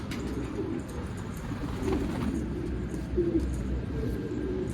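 A homing pigeon coos repeatedly in soft, low throaty phrases over a steady background hum.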